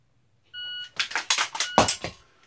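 A shot timer buzzer starts a dry fire practice rep, a steady tone of about half a second, followed by a quick run of sharp mechanical clicks and handling clatter from the unloaded pistol and magazine, close and fairly loud.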